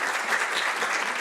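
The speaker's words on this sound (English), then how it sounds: "If you happen to give Leslie Ann a round of applause" An audience gives a round of applause for Leslie Ann, the event organiser, at a Scottish national collections exhibition; steady, dense clapping fills the whole short stretch at an even, fairly loud level.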